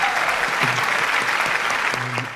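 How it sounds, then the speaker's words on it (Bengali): Loud, steady applause from a studio audience at a Bangladeshi comedy talent show, filling the whole moment with dense clapping while faint voices and short tonal sounds poke through underneath. "একটা জোরে হাত তালিয়ে দিন।"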